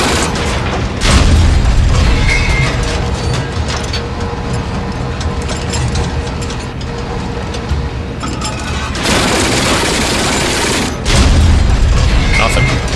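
Tank cannon fire striking a building in the Tank Crew combat simulator, heard as heavy booms with reverberating rumble and mechanical clatter, two loud broadband blasts standing out amid continuous engine noise and talk.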